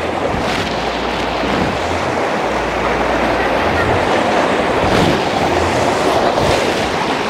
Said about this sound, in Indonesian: Debitnya kencang sekali airnya.